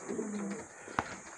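A golden checkered pigeon hen kept as a breeder gives a soft low coo, faint and close, followed by a brief click against quiet background hiss.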